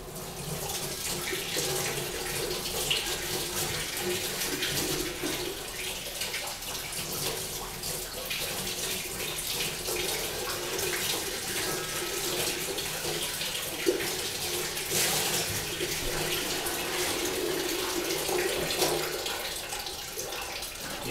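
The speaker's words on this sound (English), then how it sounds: "The next job is to go and wash my hands, which I'm going to do over here." A tap runs steadily into a workshop sink while hands are washed, a close continuous rush of splashing water with light shifting splatters throughout.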